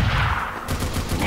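Wrangled sentry gun in the Team Fortress 2 video game firing a rapid, continuous stream of loud mechanical gunfire, dense and unbroken for over a second with no talking.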